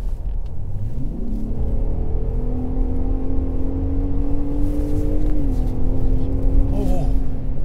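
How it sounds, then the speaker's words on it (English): A 2021 Ford F-150 Raptor 37-inch in sport mode, its exhaust droning and revving with rising and falling engine tones, heard steadily from inside the cabin. "My throttle is going to be sharper, and the exhaust is going to sound more awesome."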